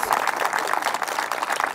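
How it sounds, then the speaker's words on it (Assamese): An audience at a farmers' science programme applauding to welcome guests, a steady patter of many hands clapping at moderate loudness for a short stretch, with no voices over it. "আমাৰ সকলো অতিথিলৈ এক ডাঙৰ ৰাউণ্ডৰ হাত চাপৰি উষ্ম আদৰণি জনাইছো"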